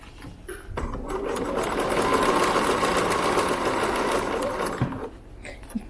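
A sewing machine fitted with an even feed foot stitches two layers of fabric for a Japanese knot bag, a steady, loud, continuous mechanical whir running for about four seconds before stopping.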